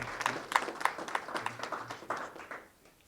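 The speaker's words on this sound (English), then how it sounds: "give a round of applause to Lake Havasu Unified School District" Scattered applause at a press conference for a school lunch bill, faint and uneven with a handful of distinct claps fading over about three seconds.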